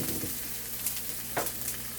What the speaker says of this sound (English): Now this is just going to be sauteed for a few minutes to just release all of that flavor.